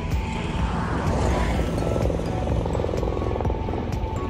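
Helicopter at the Katra helipad giving a continuous, loud whirring roar that holds steady throughout with no speech.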